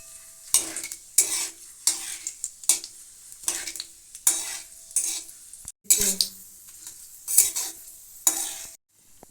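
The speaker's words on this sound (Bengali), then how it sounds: "এখানে ডিশে নিয়েছি আমি একটা তেজপাতা দুটো শুকনো লঙ্কা আর জিরে এই ফোড়নটা আমি দিয়ে দিলাম" A bay leaf, two dried chillies and cumin are tempered in hot mustard oil: a soft sizzle runs under a string of regular, close, clattering scrapes of a utensil against the pan.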